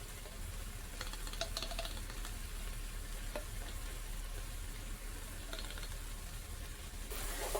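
Minced garlic being stirred into a pot of vegan sweet potato chili, a steady close sizzle with scraping spoon strokes running throughout, no voices.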